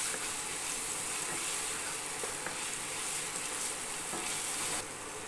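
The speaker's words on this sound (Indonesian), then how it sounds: "Masukkan semua bahan isiannya ya, dan tumis sampai layu." Vegetable filling for lumpia sautéing in a little leftover oil in a pan, a steady bright sizzle with faint stirring scrapes, close and continuous throughout with no voices.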